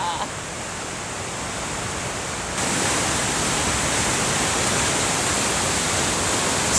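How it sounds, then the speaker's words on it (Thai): Dalälven river waterfall in Sweden, flowing hard with a dense, constant roar of rushing water that grows louder partway through, close and uninterrupted. "แล้วก็น้ำตกค่อนข้างที่จะ ไหลแรงมากๆเลยนะคะ ไหลแรงมากๆค่ะ"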